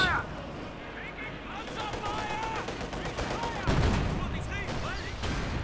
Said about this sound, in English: 20mm auto cannon just tears through them as if they're made of butter.